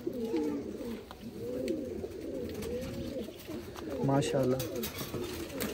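Pigeons coo in low, repeated rounded phrases, some close and some farther off, while someone talks over them throughout.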